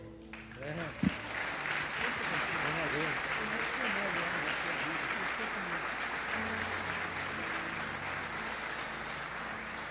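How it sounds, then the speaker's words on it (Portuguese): A church congregation claps in sustained, dense applause that swells and holds steady, with a voice speaking over the start. "Pode aplaudir mais forte."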